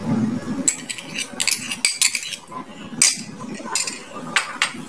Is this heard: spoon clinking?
yes